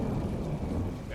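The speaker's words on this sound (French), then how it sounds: "Il pleut à verse." Heavy rain pours in a dense, steady rush with a low rumble beneath it, no voices, in Call of Duty: Modern Warfare II (2022).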